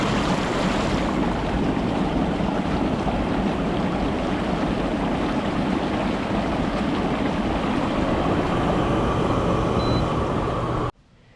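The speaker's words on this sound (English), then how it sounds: "Let's just try the bubble system." The bubble system of a Saluspa Coronado inflatable hot tub runs with a steady, dense rushing and churning of air through water, loud and unbroken until it cuts off abruptly at the end.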